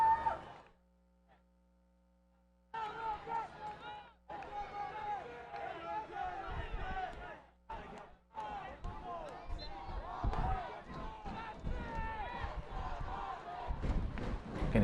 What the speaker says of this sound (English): You can hear the Malden fans now cheering their team on.